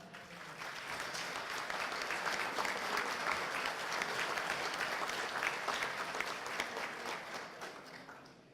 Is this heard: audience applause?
yes